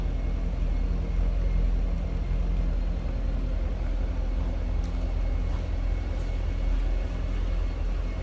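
A 2008 Chevrolet Corvette coupe's V8 engine idles steadily with a deep, rumbling exhaust burble, heard from the rear, constant and close throughout, with no voices over it.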